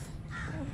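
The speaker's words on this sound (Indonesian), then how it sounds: "Burung." A crow caws once in a drawn-out, moderately close call over a low steady background hum, with no talk.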